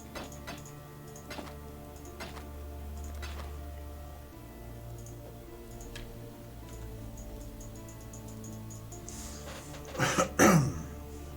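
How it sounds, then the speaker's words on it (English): A man coughs a few times at close range in a quiet room with a faint ticking background, with a short burst of harsher throat-clearing coughs near the end. "I got this terrible cough"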